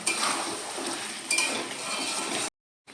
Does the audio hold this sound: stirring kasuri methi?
yes